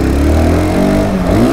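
A 2023 SYM NH-T 300 motorcycle engine pulls loud and close between 2000 and 5000 RPM, a steady throaty drone with a pitch that rises and shifts over about a second and a half.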